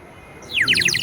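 A handcrafted toy whistle at a craft fair imitates a sparrow's chirp with a quick run of bright, rapid chirps. It starts after a short quiet lead-in and plays alone.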